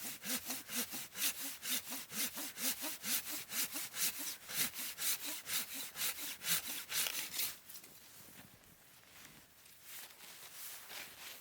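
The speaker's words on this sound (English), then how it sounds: "I still got lots of firewood to go ahead and process because it's freezing" Firewood being hand-sawn outdoors on a freezing winter camping trip in Michigan's Upper Peninsula makes close, loud, rhythmic rasping strokes, about two per second. The strokes stop partway through and give way to quieter scraping and handling.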